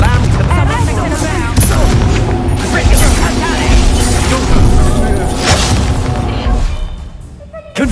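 The Confringo fire curse blasts repeatedly in a Hogwarts Legacy duel, loud booming impacts layered over dense battle noise and music with voices mixed in, continuous and close throughout.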